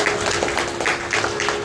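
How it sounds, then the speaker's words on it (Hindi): An audience claps along during a devotional Hindu katha discourse in Haridwar, giving a brief, steady patter of applause with no one talking over it. "तालियां"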